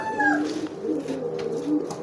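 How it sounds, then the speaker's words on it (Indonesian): A pigeon that is still molting coos softly and repeatedly at close range, its low throaty calls rolling under a faint bit of background noise. "Nih, merpatinya."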